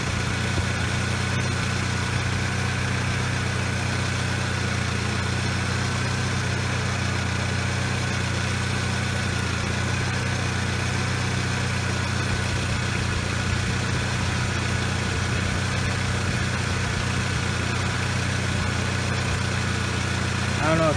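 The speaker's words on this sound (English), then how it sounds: "the compressor is kicking on and then hitting the low pressure switch and kicking off" A Saab 9-3 engine idles with a steady, even hum, a low AC charge making the compressor kick on and off, though its faint clicking is barely distinct under the engine drone.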